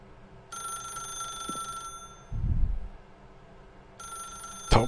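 Telephone in the video game The Stanley Parable rings in two bursts of bright electronic trilling, one early and one near the end. A dull thump and low rumble fall in the pause between them.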